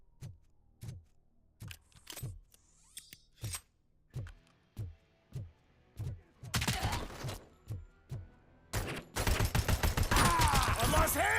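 Gunshots and gunfire: a steady series of sharp separate shots at regular intervals, then dense bursts of rapid fire that grow louder and overlap toward the end, with shattering debris.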